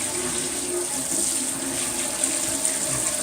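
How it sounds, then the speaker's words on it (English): Water streams steadily into a stainless steel sink while it is rinsed, a continuous close hiss and splash with no breaks across the whole span. "I'm just going to give it a good rinse"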